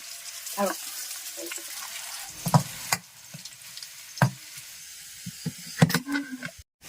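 Faint, steady sizzle of shallots and curry leaves frying in oil, with scattered sharp pops and a few clattering utensil knocks.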